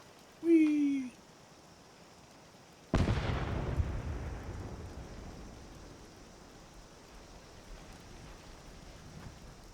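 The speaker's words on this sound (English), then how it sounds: "The old frag grenade." Frag grenade explosion in Fallout 76: after a brief excited vocal exclamation, a single sudden loud blast erupts, then a long rumbling, crackling tail fades gradually over several seconds.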